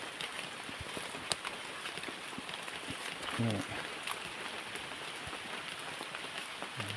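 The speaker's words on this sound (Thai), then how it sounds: "บรรยากาศ ฝนก็ตกนะ ตกมา" Steady rain pattering on a surface with scattered drops, continuous and even throughout, with a brief low thump midway.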